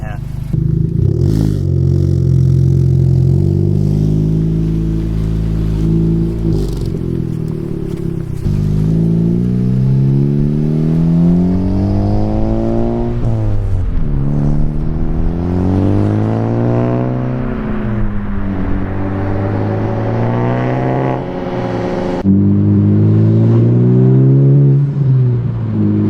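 Car engine hums and revs while driving, with rising and falling pitch sweeps as it accelerates and shifts, loud and close inside the cabin, with a voice talking over it at times.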